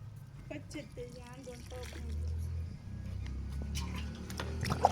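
Leftover water tipped out onto the base of a mango tree, a short trickling pour with light splashes over a low background hum.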